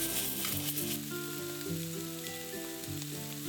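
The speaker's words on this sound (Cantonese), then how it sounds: "然後再將有皮嘅雞扒一面向下" A skin-on chicken thigh sizzles skin-side down in a dry pan heated over medium heat, with no added oil. The frying crackles steadily and softly under tuneful background music.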